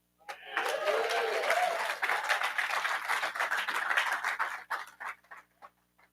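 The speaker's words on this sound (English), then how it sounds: "Thank y'all for those applause." A conference audience in a hotel venue claps, the dense patter rising quickly after a short vocal whoop, holding for about four seconds and then thinning into scattered claps.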